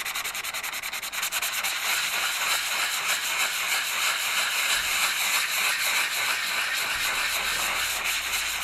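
Continuous scratchy rubbing of sandpaper worked by hand over a fiberglass rib on a small boat, close and steady, with a brisk back-and-forth rhythm and no talking.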